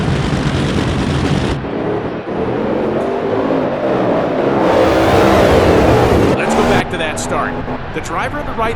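Loud NHRA dragster engines roar down the strip at the Mile-High Nationals in the NHRA Speed for All racing game, a sustained howling blast that shifts in pitch as the cars accelerate.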